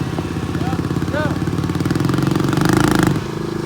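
Heavy pickup trucks strain against each other in a tug of war over a dirt pile, their diesel engines droning and clattering steadily, growing louder toward the end, with a few brief high chirps and faint voices in the background.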